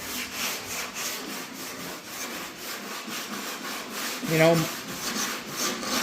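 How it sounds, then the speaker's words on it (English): Steady back-and-forth rasp of hand block sanding, a continuous rhythmic scrubbing close by at moderate loudness with a brief louder scrape near the end. "you can just sand forever"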